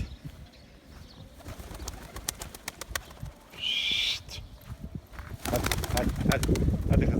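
Pet pigeons kept in a loft during snowy, rainy weather, their low murmuring coos mixed with shuffling and flapping, a brief higher whistle partway through, and a nearby person talking.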